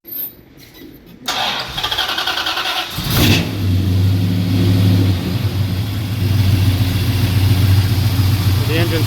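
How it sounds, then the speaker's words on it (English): A restored 1968 Dodge Charger R/T with a 440 big block cranks and fires up after a short quiet moment, then settles into a steady, loud, deep idle that carries on without a break. "The engine starts up smoothly."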